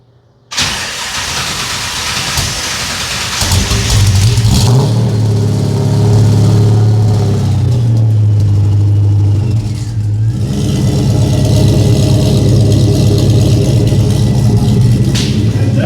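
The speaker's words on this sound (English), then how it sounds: "Car's running, is sounding sweet. The exhaust sounds good" A car engine cranks and catches after a brief silence, then revs up loudly and settles into a steady, close idle with a few more throttle swells, no voices.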